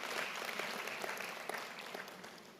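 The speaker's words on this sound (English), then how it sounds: "Can we give also a round of applause," Audience applause at a university's 10-year anniversary celebration, a steady wash of many hands clapping, fairly faint and distant, lasting the whole stretch without speech.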